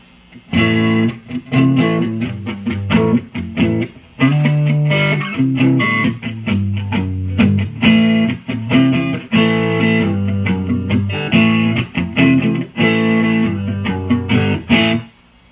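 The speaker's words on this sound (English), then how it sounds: "you can hear it's got that really, just aggressive, raw Vox tone." Overdriven electric guitar through a Joyo AC Tone pedal into a Mesa Boogie Subway Rocket tube amp, raw Vox-style tone, loud with crunchy distortion, strummed riffs and short pauses, played alone.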